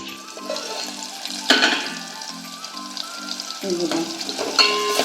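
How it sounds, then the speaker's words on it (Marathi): Potatoes sautéing in hot oil tempering in a traditional Konkan kitchen, a continuous close sizzle with brief louder bursts as the pieces are stirred, and no talk. "बटाटे आपण असे फोडणीत परतून घेतले"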